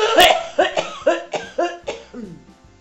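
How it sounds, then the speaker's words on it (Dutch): A person coughs in a rapid series of about eight hacking bursts, close and fairly loud, tapering off at the end. "En dan hoest het gelijk."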